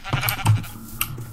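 Sheep bleating in Minecraft, a few short, close bleats in quick succession, loud and clear with no talking.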